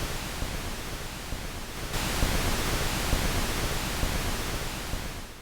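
Broadband hiss from the noise source of a Crumar Spirit analog synthesizer, a steady wash of noise alone that grows louder and brighter partway through and holds to the end.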